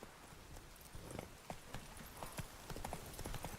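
Roach, the horse in The Witcher 3, clip-clops along with a run of distinct hoofbeats, fairly close and moderately loud over soft game ambience.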